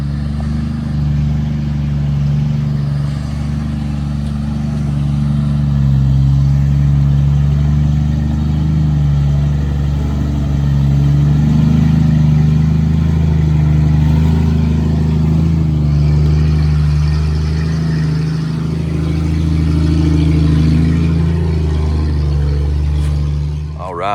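A Jeep XJ engine labouring as it climbs over rocks on a rail bed trail at an off-road park, a loud low steady drone that swells and eases, close, with no talking.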